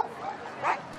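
A single dog gives a short yip or whimpering bark at a Madrid dog race event with thousands of people and their dogs, brief and fairly close over a faint crowd hum.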